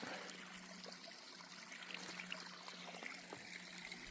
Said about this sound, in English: Water just comes out from under this tree.